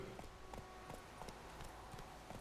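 Horse hooves galloping in The Witcher 3 video game, a quick steady run of hoof thuds in a rolling rhythm, mid-distance over a bed of ambient game noise.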